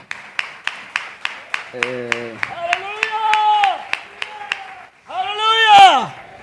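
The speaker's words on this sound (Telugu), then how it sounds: "చప్పట్లు కొడదాం గట్టిగా దేవునికి." A church congregation claps loudly in a steady, even rhythm for God while a preacher's voice rings out over the beat, with cheers rising toward the end.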